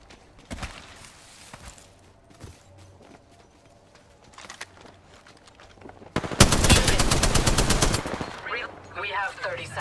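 Gunfire in a battle royale shooter: scattered single shots at first, then a loud, sustained close automatic burst, with distant shots and game sounds in between.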